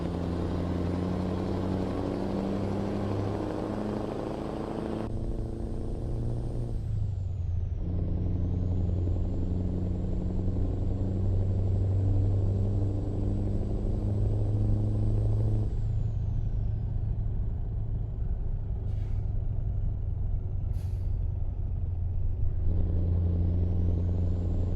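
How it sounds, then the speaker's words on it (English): A truck engine drones steadily as it drives along a road, a loud, continuous low rumble with shifting pitch as gears change and the engine note rises and drops. "God, this truck sounds good."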